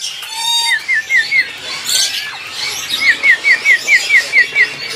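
Indian Ringneck parakeet at a Jakarta bird market kiosk calls in two quick runs of sharp, repeated squawks, loud and close, with other faint chirps around.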